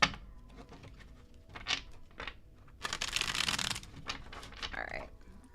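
Tarot cards shuffled by hand in a few riffling bursts, the longest and loudest near the end, with soft handling noises between them.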